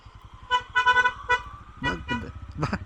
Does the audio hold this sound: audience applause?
no